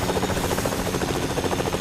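A helicopter in Fortnite Zero Build drones close by, its rotor beating in a fast, steady pulse that holds at an even, fairly loud level throughout.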